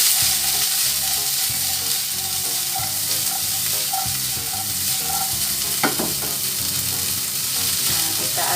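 Green beans stir-frying in a pan give a steady, close sizzle, with the scrape of a utensil stirring them and a sharper clatter near the end, with no talking.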